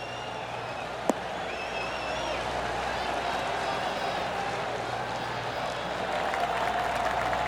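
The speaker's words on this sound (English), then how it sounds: "Oh, golf clap." Polite, subdued golf clapping from a gallery at the WM Phoenix Open spreads steadily through the whole stretch, a soft continuous patter with murmured voices and one sharp tap near the start.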